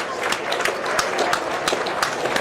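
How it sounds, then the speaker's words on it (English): Crowd applause for the team at a rugby league A Grade grand final, steady clapping filling a short stretch with a commentator's voice talking over it. "a big round of applause should go to the side"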